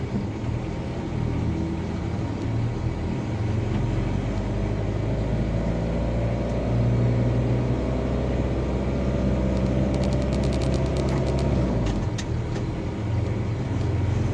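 A car engine rumbles steadily and loudly during a driving lesson on a winding mountain road while the driver changes down a gear, a continuous drone from inside the vehicle.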